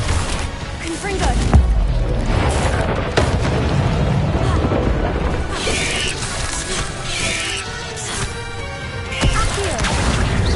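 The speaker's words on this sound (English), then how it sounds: "Confringo." Explosive Confringo spell blasts from the Hogwarts Legacy video game: deep booms and crashing impacts recur over about ten seconds amid dense, loud combat effects.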